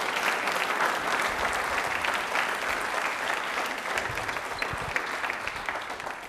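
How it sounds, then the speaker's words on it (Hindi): A Doordarshan Rajasthan studio audience at an Ambedkar Jayanti programme gives a guest strong, steady applause. The even, continuous clapping fills the room for about six seconds without pause. "एक बार जोरदार ताली हो जाए सतीश सर के लिए"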